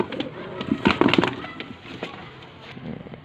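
Pigeons kept by a fancier in Sialkot coo and flutter close by in short, irregular bursts, with some voices faintly in the background.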